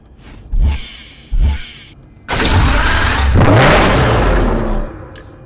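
A 2006 Porsche engine in Need for Speed Hot Pursuit Remastered: two short sharp revs followed by a loud, sustained roar that climbs and holds before cutting off.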